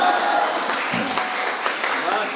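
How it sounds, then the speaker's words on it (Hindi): An audience at a Hindi comedy poetry gathering (kavi sammelan) claps in a loud, continuous burst that fills the whole moment, with a performer's voice over the applause. "तो ऐसा झूम के ताली बजाना है कि कवियों को भी लगना चाहिए"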